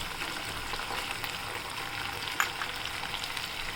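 Moong and chana dal fry in a pan for tomato rice, a steady, even sizzle held close throughout with one small clink midway.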